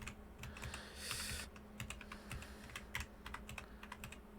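Rapid clicking keystrokes on a computer keyboard during spreadsheet data entry, steady and close, with no one speaking.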